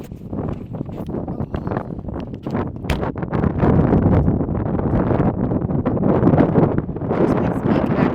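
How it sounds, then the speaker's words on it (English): Strong gusts buffet the outside of a parked car on a windy day, roaring and rumbling in uneven surges that grow heavier midway, loud and close with no voices. "I'm showing you the exterior from the car because it's so windy out there"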